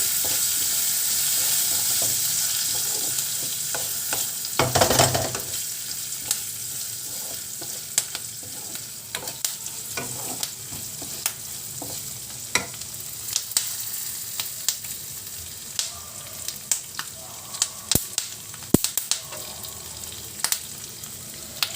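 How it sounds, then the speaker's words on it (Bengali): Ingredients for a vegetarian dish fry steadily in a pan with a constant sizzle, broken by one loud burst and frequent sharp clicks of a stirring utensil. "ভালো করে এটাকে ফ্রাই করে নেব।"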